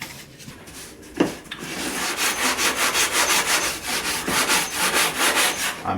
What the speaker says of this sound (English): So we just take a sanding block